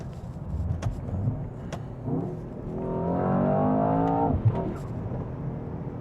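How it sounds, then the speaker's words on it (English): Mercedes-AMG S 63 E-Performance accelerating from inside, engine rising in pitch through a gear, then a brief sharp blow-off valve puff as revs drop, with road noise throughout. "And there's a very nice blow-off valve as well."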